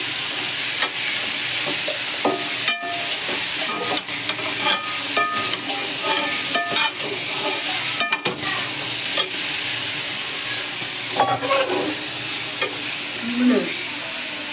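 Goat blood frying in a pan is stirred steadily, producing a loud, close sizzle with repeated scraping and knocking of the utensil against the pan, and faint voices occasionally underneath.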